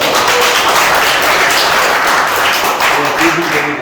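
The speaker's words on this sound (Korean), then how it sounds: "여러한번 더 박수 한 번 보내주시죠." Applause at a Daegu FC Angel Club executive meeting, a loud, sustained burst of many hands clapping that fills the room evenly, with faint voices underneath toward the end.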